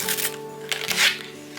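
Sublimation paper peeled off a glass Christmas Libby can gives a short papery rustle and tearing sound, close and fairly quiet, over a steady background hum.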